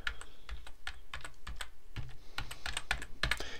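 Someone types a short phrase on a computer keyboard. A quick, close run of clicky keystrokes with uneven rhythm comes through a quiet room.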